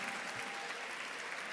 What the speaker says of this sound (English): Let's give a round of applause to Mayor Eric Adams.